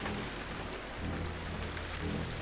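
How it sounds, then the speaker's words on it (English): Heavy rain falls in The Last of Us Part 2, a steady, dense hiss of drops on surfaces at moderate loudness with low rumbling beneath and no voices. "It's raining profusely."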